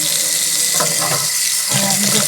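Tap water runs steadily while hominy corn is washed under it, a close, continuous splashing stream with brief shifts as the kernels are moved about.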